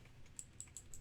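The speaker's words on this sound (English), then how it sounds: "In my case, I'll just go ahead and type" Four or five soft, quick clicks from a computer keyboard as an address is typed, evenly spaced, quiet and close, over a low background hum.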